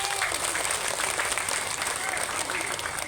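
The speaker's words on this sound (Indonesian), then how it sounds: "Tepuk tangan dulu dong." Steady applause from an audience at an Islamic boarding school (pondok pesantren) gathering, dense and continuous throughout, with some voices mixed in.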